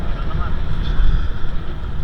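Gusty wind rushes over open water during a triathlon swim event, a steady rumbling buffet close to the microphone, with voices talking over it.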